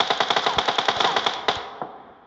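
Rapid automatic gunfire from PUBG Mobile crackles in a tight burst of about a dozen shots, then a few spaced single shots that fade into a decaying tail, loud and alone.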